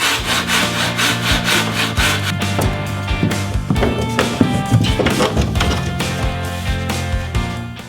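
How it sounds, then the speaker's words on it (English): A fine-tooth hand saw cuts through a matchboard wood panel in steady back-and-forth strokes, a close, rasping rhythm with no talk. "It cuts pretty well with a fine tooth saw."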